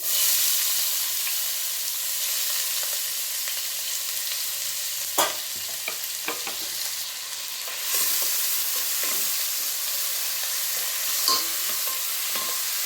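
Finely chopped onions fry in oil in a pan where mustard seeds have just begun to splutter, giving a steady broad sizzle with a few sharper stir scrapes and pops, no voices.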